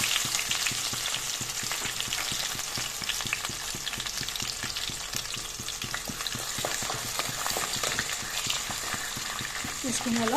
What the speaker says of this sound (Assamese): তাৰপিছত মই তেজপাত পিঁয়াজখিনি লগতে দি দিছোঁ যিহেতু তেলটো গৰম হৈছেয়ে